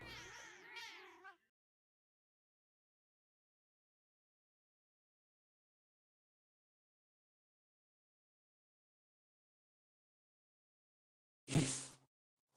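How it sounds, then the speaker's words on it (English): A cat meows once at the start, then a long silence, then a brief loud yowl near the end, both close and with no talk around them. "Oh, poor little kitty hurt her leg."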